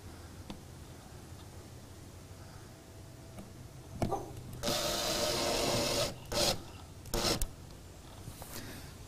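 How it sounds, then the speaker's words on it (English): A power driver spins self-tapping screws through the body of an RV while mounting solar panel brackets, giving a few short bursts of whirring and grinding, one long and several brief, against a quiet outdoor background. "Now, I'm just putting in self-tapping screws."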